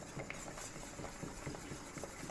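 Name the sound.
whisking cranberry sauce in a pan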